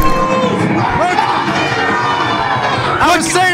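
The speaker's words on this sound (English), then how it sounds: "The crowd here is unbelievably loud." A loud crowd at an independent wrestling show roars, whoops and shouts continuously, with children's voices and cheers rising together, sustained and dense throughout, close and overwhelming.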